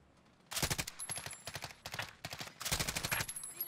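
Gunfire in Warzone, quick rhythmic bursts of automatic shots in several volleys, moderately loud over quiet game ambience, with no talking.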